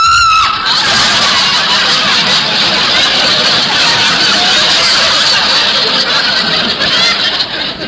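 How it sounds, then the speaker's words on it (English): Woman screaming in a 1950 old-time radio comedy, Our Miss Brooks: a brief, sharp cry at the start, then a loud, sustained wash of noisy sound carrying through to the end. "forgive me for screaming"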